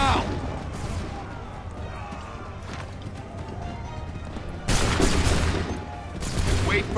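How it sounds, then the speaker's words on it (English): A musket volley in the Assassin's Creed 3 video game, a sudden loud crackling burst of massed shots that rises out of a rumbling battlefield and is followed by a second, shorter burst, with shouted voices around it. "Hold fire! Fire now!"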